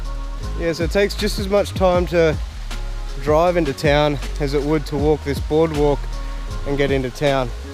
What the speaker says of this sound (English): You can hear the waterfalls in the background.